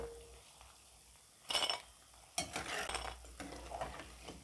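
Lentil fritters (dal bora) fry in a pan of oil, with a soft background sizzle broken by a few loud bursts of stirring and utensil clatter.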